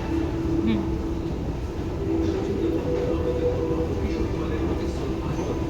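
A metro train hums and rumbles steadily at a dim station, a continuous low drone with faint rail noise beneath a person talking.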